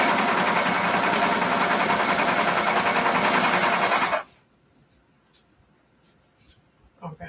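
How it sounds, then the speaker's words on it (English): A serger runs loud and continuous up close while sewing a center back seam, then stops abruptly, leaving near silence and a few soft handling sounds. "Serging the center back seam together."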